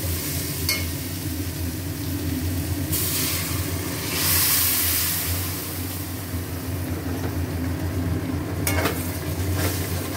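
Masala fries loudly in an oil-filled pan with a steady sizzle and occasional spoon scraping, a small splash of water around the fourth second briefly swells the hiss, and another sharp sizzling burst comes near the end.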